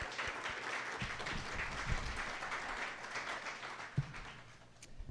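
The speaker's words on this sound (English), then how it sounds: "Give them a round of applause." An audience at an Asian American and Pacific Islander Heritage Month event at a water reclamation district applauds commissioners, with soft, distant clapping that holds steady for about five seconds.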